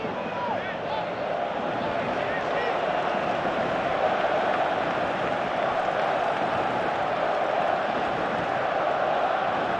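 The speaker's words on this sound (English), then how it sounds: "Crowd appreciates good football all round there." A stadium crowd in the PES 2017 football game, a UEFA Europa League match of Barcelona versus East Midlands, holds a steady, even roar of applause and murmuring that stays level throughout.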